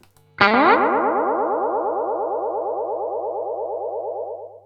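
A distorted guitar note through a delay pedal set for psychedelic repeats rings out and swirls into a cascade of warbling, repeating echoes that slowly fade, loud and close.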